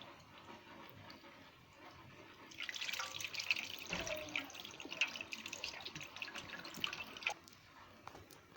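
Aashirvaad wheat flour dough rinsed under a running tap, a soft trickle that swells midway into a fuller splashing gush with scattered drips, fairly faint and with no talk.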